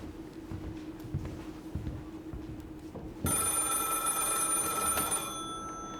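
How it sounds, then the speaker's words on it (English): A telephone rings with a bright, loud electronic bell tone that starts suddenly partway through and fades, following a quieter stretch of faint background noise. "I get this phone call."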